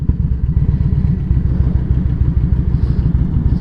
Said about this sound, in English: See, the idle's a little low,